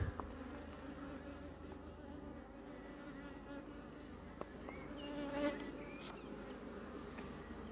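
Honeybees fly around a hive on a warm day in Ireland, giving a continuous, moderately close buzzing drone with individual bees passing nearby. No one speaks.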